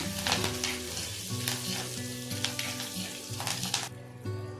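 Onion and curry leaves sauté in a pan for peanut chutney, giving a steady close sizzle with occasional stirring scrapes, over a faint tonal background.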